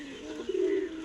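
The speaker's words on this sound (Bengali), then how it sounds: "গিরিবাজ পায়রা দেখুন।" A Giribaj pigeon gives a single short, low coo, close and fairly soft, against faint background noise.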